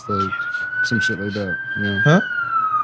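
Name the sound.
ambulance siren passing outside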